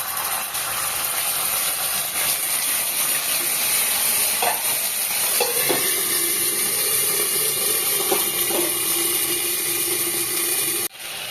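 Ginger paste and spices fry in a pan for a Bengali chal potol dish, a steady broadband sizzle running throughout with scattered stirring scrapes and clinks, close and continuous, with a brief dip near the end.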